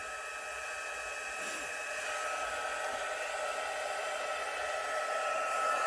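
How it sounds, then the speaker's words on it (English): A heat gun blows with a steady, airy rushing hiss, close and continuous, while warming up before it melts embossing powder on a vellum sheet; no voices. "now I'm going to get my heat gun"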